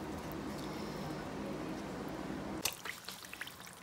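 Pork fat from pastured pigs at a slow boil while rendering into lard, a steady bubbling, simmering hiss that gives way to scattered pops and drips near the end.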